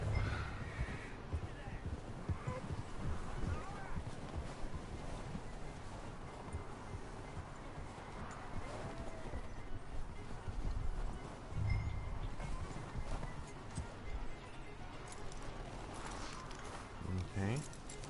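A horse in the game Red Dead Redemption 2 whinnies loudly as it is hitched, with clip-clopping hooves and steady wind around it, while a person talks over the scene.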